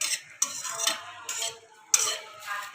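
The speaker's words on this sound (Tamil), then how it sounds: "ஸ்லோவில் வச்சு கலந்துட்டு இருக்கணும்" Boiling coconut milk being stirred in a pan while it is cooked down into oil, with a few soft scraping sweeps and light clinks of a utensil against the metal over a quiet bubbling background.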